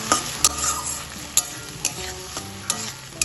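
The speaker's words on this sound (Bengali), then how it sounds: "সব কিছুকে তেলের সাথে ভালোভাবে কষিয়ে নেব" A paste of tomato, ginger, green chili and garlic is sautéed in oil in a pan, giving a soft sizzle broken by sharp scraping stirs at uneven intervals.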